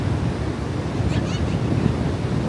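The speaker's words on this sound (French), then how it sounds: "la mer qui est assez forte. Hein. Il y a beaucoup de vent" Strong sea waves and gusting wind at Biscarrosse beach, a continuous loud roar of surf mixed with wind buffeting the microphone, no voices.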